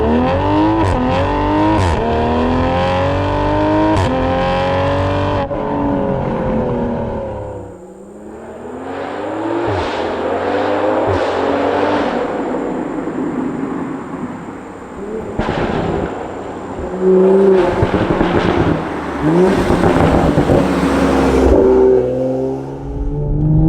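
Straight-piped Toyota A90 Supra exhaust revs hard and close, with rising and falling engine sweeps and sharp pops and crackles between the revs, loud throughout with a brief dip midway.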